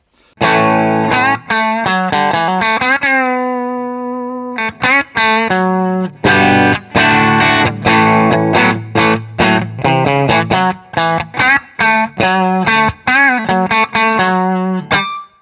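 A heavily distorted electric guitar through a Hughes & Kettner Ampman Classic high-gain rock channel plays chunky riffs and chords with short pauses between phrases, loud and saturated, with no talking.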